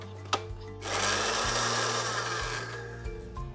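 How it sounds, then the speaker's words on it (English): An electric blender whirs loudly as it mixes a raw egg with salt and sugar for a Malaysian curry mee, starting after a sharp click and running steadily for a few seconds before winding down, heard up close. "Break an egg into a blender."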